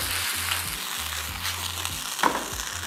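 Meat sautés in a hot pan with a steady close sizzle and hiss, a rhythmic low thumping underneath and a brief clatter near the end.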